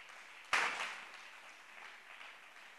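A church congregation breaks into applause to acclaim the Lord, a sudden burst of clapping that swells then slowly fades into a soft, lingering patter in a reverberant hall.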